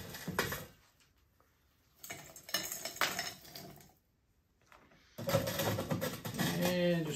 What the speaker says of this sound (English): You're going to fill that mug with ice.